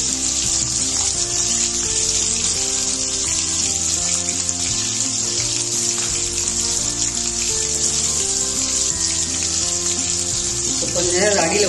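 Nethili anchovies fry in hot oil, a dense steady sizzle with a bright hiss, continuous and close throughout, with a music bed playing underneath.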